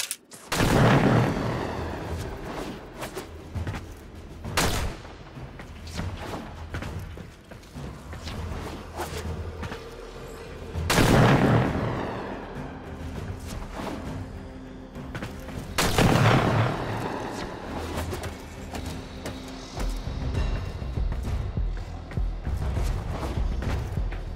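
Gunfire from the video game Warframe during a target-shooting mastery test: loud, close shots and blasts in bursts, with sustained rumbling game noise and mechanical sounds between them.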